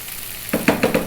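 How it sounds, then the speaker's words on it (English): Stewing beef cooking in a pan over medium heat, a few scraping stirs with soft sizzling, close by after a brief quiet start. "I really want to cook this beef to get it nice and tender"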